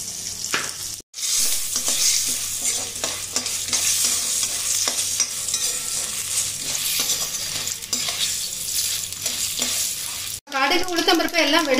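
Mustard seeds and urad dal sizzle and crackle in hot oil while making tomato thokku, with occasional spoon stirring and scraping against the pan, loud and close.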